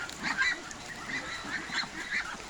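A flock of farm ducks heading to water to bathe call out with honking quacks, several birds overlapping at a moderate distance in a continuous noisy chorus.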